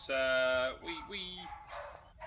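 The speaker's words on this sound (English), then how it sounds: "Excuse the noise of the noisy dogs." Several nearby dogs bark in quick succession, a long loud bark followed by shorter yips and barks, fairly close.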